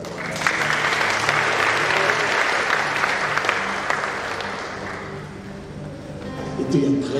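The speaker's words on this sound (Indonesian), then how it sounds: "tepuk tangan buat Tuhan" A church congregation applauds steadily and loudly for several seconds, the clapping thinning toward the end while a voice speaks over it.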